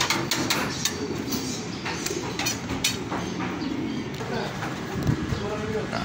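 Racing pigeons coo repeatedly at close range amid the bustle of a loft during birds arriving home, with people talking over them and occasional knocks and clatter.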